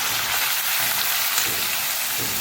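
Vegetables fry in a pan of hot oil with mustard seeds, green chillies, garlic and bay leaf, giving a steady, close, even sizzle with no talking.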